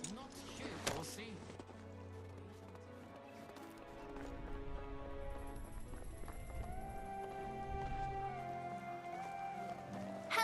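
A horse's hooves clip-clop in the Medieval Dynasty video game, soft and steady under background music, while a person talks over it.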